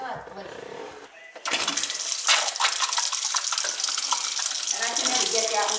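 A faucet runs with a weak, low flow of water, steady hissing splash after a brief pause at the start, fairly close and continuous.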